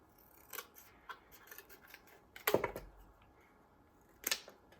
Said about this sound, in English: With a pair of scissors,